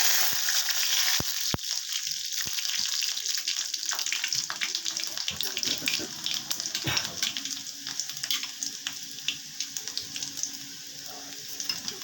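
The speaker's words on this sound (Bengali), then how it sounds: "মশলাটা ফুটে গেছে, প্রথমে রসুন দিয়ে দিলাম।" Garlic dropped into hot oil with frying spices while cooking potol vorta, a bright continuous sizzle and crackle after a few sharp clatters at the start, with stirring noises.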